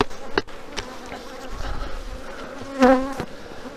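Honeybees buzz around hive frames at an apiary during a September colony check, a continuous drone with a few sharper close passes and a brief louder swell near the end.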